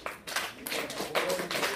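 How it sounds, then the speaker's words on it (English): A comedy club audience applauds, a scattered burst of hand clapping in uneven waves, moderately loud and without speech. "Give yourself a round of applause."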